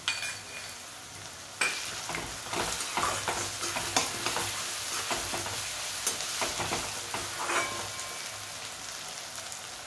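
Ginger-garlic paste frying in a hot pan for veg pulao, a sudden loud sizzle when it hits the oil followed by steady crackling and spatter, with stirring scrapes recurring throughout.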